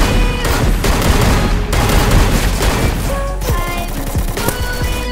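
Rapid gunfire from the Free Fire battle royale game, dense overlapping bursts and booming shots packed tightly together, loud and continuous throughout with no pauses.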